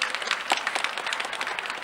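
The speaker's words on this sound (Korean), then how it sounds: "고맙습니다. 박수를 많이 치가지고." A church congregation at a Sunday Mass in Advent applauds together, a dense steady patter of many hands clapping at moderate distance, with no talk over it.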